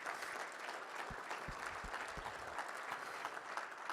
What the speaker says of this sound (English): let's give a big round of applause to all the folks